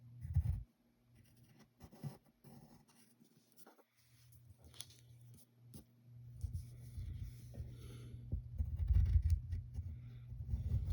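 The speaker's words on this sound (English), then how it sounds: "So we're going to draw this sort of S shape." Pencil scratching on paper while sketching a cartoon monster's feet and toes, soft intermittent scribbling strokes close to the microphone, growing steadier and denser toward the end over a low background hum.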